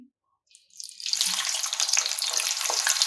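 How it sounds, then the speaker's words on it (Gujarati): Potatoes dropped into hot oil over a high flame, breaking into a loud, steady sizzle after a brief quiet start, close by and with no talk. "આપણું તેલ ગરમ થઈ ગયું છે આપણે એમાં બટેકાને ફ્રાય કરી લઈશું"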